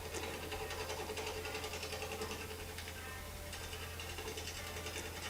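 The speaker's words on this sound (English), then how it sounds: "Then you mount it on a lathe between centers and start roughing it out." Green-wood bowl blank spinning on a wood lathe between centers while a 5/8 inch bowl gouge roughs out the bottom side, giving a steady continuous whirring drone with a constant low hum and scraping texture throughout.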